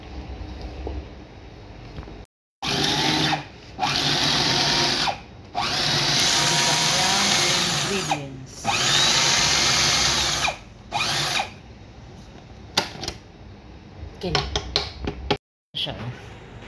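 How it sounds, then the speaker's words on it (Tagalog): A food processor runs in several loud motorized bursts with brief pauses between them, mixing dumpling dough in a home kitchen, its whirring drone filling most of the stretch while a person speaks faintly underneath. "Madali lang talaga gumawa pag may processor ka na machine."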